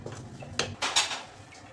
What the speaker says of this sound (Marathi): मिक्स करून घ्यायचं आहे.